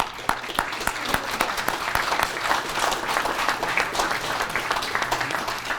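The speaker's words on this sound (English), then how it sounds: "give a round of applause for World War II veterans" At a Veterans Day breakfast, an audience applauds World War II veterans, with many hands clapping in a lively, crisp burst that holds steady at moderate loudness throughout.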